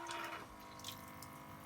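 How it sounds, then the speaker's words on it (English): A battery-powered USB faucet in a van runs a steady, gentle stream of water into a sink. The flow starts with a slightly brighter splash and then settles into a constant hiss. "So why don't you go ahead and start the faucet, Joan."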